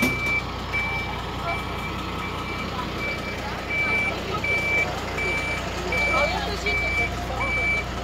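A bus sounds steady, evenly spaced reversing beeps at a bus station near the Lviv railway station, where buses leave for Warsaw, over a constant low engine rumble and ambient traffic noise.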